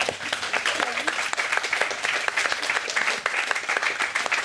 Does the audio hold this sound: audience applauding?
yes